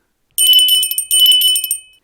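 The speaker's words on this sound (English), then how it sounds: "he was awakened by a ringing bell" A bright bell rings in two quick trilling bursts, each a rapid flutter of metallic strikes lasting under a second, close and loud against silence.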